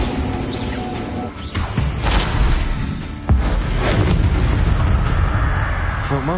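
Explosive blasts from the Bombarda spell in the game Hogwarts Legacy, a sharp boom near the middle followed by sustained rumbling noise, with faint voice traces.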